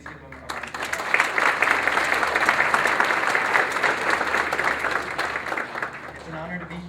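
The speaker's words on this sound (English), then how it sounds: "So could you please give him a round of applause?" An audience at a schools event gives a round of applause for a piano accompanist, loud, full clapping that swells in quickly and holds steady before easing off at the end.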